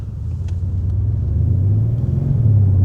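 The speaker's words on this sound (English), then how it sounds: "I absolutely adore the engine noise this car makes." A deep, steady engine rumble from a 2025 Bentley Continental GT in sport mode, growing slightly louder and throatier over a few seconds, close and without talk.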